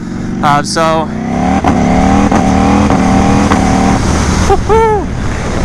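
A new Ducati Panigale V4 motorcycle accelerates hard while short shifting, its loud, close engine note rising in brief bursts broken by quick gear changes, with wind roar throughout and a voice talking over it.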